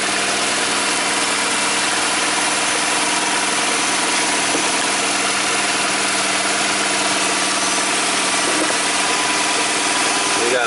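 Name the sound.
2002 Mini Cooper engine running at idle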